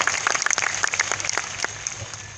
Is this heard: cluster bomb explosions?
no